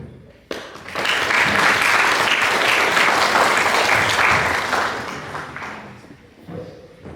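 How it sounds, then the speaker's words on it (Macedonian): An audience at a book promotion for young students' literature breaks into warm, sustained applause, a dense wash of clapping that swells quickly, holds for several seconds, then tapers off. "Да ги поздравиме со топол аплауз"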